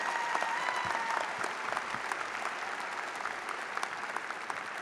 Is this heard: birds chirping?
no